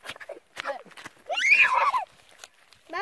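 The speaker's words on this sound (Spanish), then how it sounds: "Ahí viene el caballo." Close, loud horse whinny in the middle, with scattered hoof clip-clops before and after it and voices briefly heard around it.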